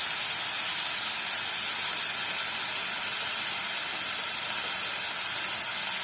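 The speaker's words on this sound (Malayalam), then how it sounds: "ഇത് നമുക്ക് പെട്ടെന്ന് ഫ്രൈ ചെയ്തെടുക്കാൻ പറ്റും." Chicken pieces fry in olive oil in a pan, making a steady, loud, close hiss with no pauses.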